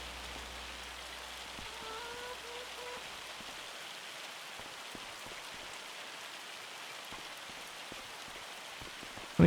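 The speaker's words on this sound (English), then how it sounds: "Get them all stacked up while it's hailing." Hail falling in the farming game Farming Simulator 25, a quiet, steady patter that keeps on without a break, with no voices.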